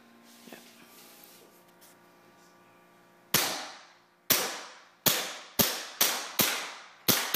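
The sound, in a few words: Tokyo Marui Glock 17 airsoft pistol shooting test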